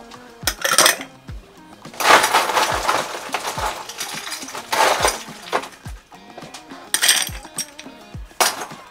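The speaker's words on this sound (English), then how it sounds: "To break this ice a little bit." Ice cubes crack and clink against a cocktail glass of pink grapefruit juice, a series of sharp close knocks and rattles spaced through the moment with brief pauses, no talking.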